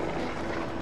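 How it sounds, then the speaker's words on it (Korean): A helicopter in the Far Cry 3 video game gives a continuous rotor and engine drone, steady and fairly faint throughout the short moment. "나 죽이려고 헬기까지 띄운단 말이야?"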